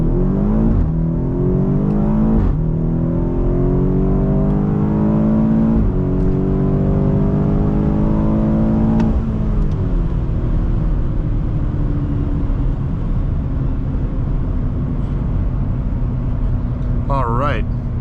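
A 2018 BMW X5M accelerates hard from 0 to 60 mph, engine rising through several gears with clear shift breaks, loud and close from the cabin for about fifteen seconds, ending in a brief high squeal.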